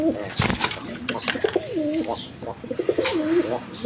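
Satin pigeons coo in repeated rolling, warbling phrases close up, with some wing flutters and rustling around them.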